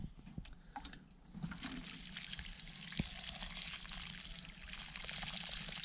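Water is poured into a planting hole prepared for a watermelon seedling in a garden bed: a steady, fairly close splashing and trickling stream runs throughout, with no voices.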